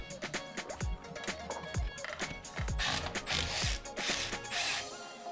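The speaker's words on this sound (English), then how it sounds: "For the guide pin bolts, you only need a 14mm socket." A ratchet with a 14mm socket clicks rapidly and closely while loosening the front brake caliper guide pin bolts on a Nissan Qashqai J11, with metallic clanks and thuds mixed in.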